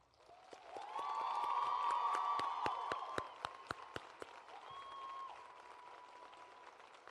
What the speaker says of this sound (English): Please join me again in applauding Kenyatta Harkey